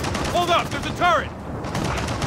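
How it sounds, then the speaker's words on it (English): Turret machine-gun fire in Gears of War 4, two short bursts of rapid shots close together over steady game background noise, while a player voice mixes in. "That is a fucking turret."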